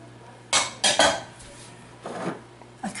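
Spoon clattering and scraping against a mixing bowl while shredded carrots are stirred into carrot cake batter, a few quick knocks and scrapes in irregular rhythm, fairly close and otherwise quiet.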